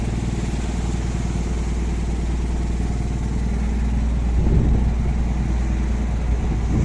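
A steady, loud engine drone from a fishing boat out on the open sea at sunset, running continuously with a low rumbling throb and a slight swell in intensity midway.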